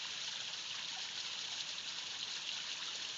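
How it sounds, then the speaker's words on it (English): A small Ozark waterfall, about a ten-foot drop, spills into a circular pond in spring, a steady, dense rush of falling water close by with no talking. "it's my personal favorite, the beautiful waterfall number 5."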